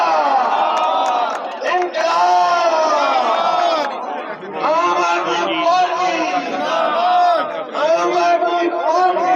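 A large crowd at an AAP campaign procession in Jalalabad, accompanying a candidate to file his nomination, shouts slogans and cheers loudly and continuously. Voices rise in rhythmic chants with brief dips throughout.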